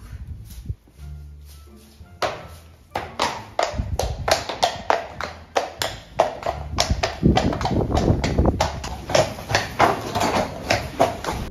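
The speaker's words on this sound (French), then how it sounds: "la mission, c'était de le faire trotter en ligne droite une première fois sans rien faire avant" A horse trots in a straight line on a hard surface during a veterinary check two months after surgery, its hooves giving sharp, regular clip-clop beats that start sparse and then become a steady, even rhythm close by.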